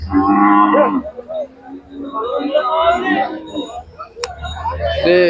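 A Khillar dairy cow at a cattle market in Sangola, Maharashtra, moos loudly and close, a long low call, followed by softer lowing sounds.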